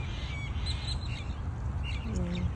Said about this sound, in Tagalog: enjoy yung mga ibon